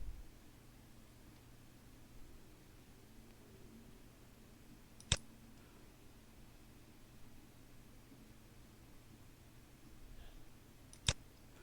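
Two sharp computer mouse clicks, isolated and fairly quiet, about six seconds apart over a low steady room hum while working in a Check Point R80.40 security management console.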